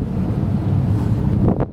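Wind gusting across a microphone aboard a twin-engine boat while docking, a loud, close rumbling buffet that holds steady and then briefly drops.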